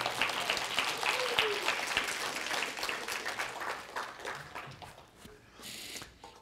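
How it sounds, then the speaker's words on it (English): A church congregation breaks into a round of applause, many hands clapping together at moderate distance, gradually tapering off over several seconds. "Let's give her a round of applause"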